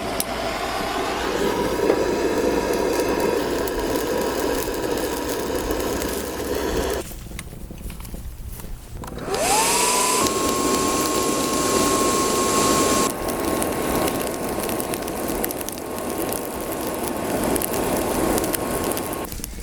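A homemade DIY forge roars with a loud, steady broadband rush. It drops out for a moment, then returns with a rising whine that settles into a sustained tone.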